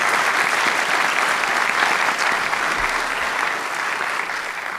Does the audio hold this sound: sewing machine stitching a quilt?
no